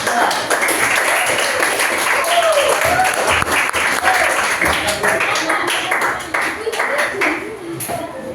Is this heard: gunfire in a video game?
no